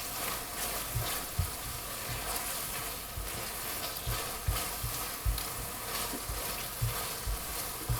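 Tomato sauce for spaghetti al pomodoro frying in a big pan over high heat gives a soft, continuous sizzle, with dull knocks and stirring bumps recurring every second or so, fairly quiet and with no voices.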